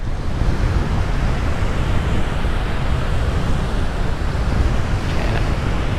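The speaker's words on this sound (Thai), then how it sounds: "วันนี้จะเป็นสันเขื่อนที่ก็ทำไว้กันคลื่นนะครับ กันความแรงของคลื่นทะเลที่จะมาประทะยัง พื้นแผ่นดินใหญ่นะครับ" Sea waves surging against a breakwater built to shield the mainland shore of an island, a steady loud roar of surf mixed with heavy wind buffeting the microphone, with no voices.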